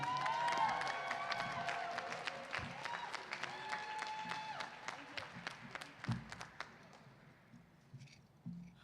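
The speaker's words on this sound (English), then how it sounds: "Round of applause for my lady" Audience at a boxing press event breaks into applause mixed with whoops and cheering, loud at first, then thinning to scattered claps as it fades.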